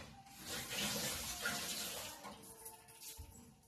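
Running tap water splashing over a small mixer jar being rinsed in a kitchen sink, a steady close gush that eases off toward the end, with faint handling clatter and no speech.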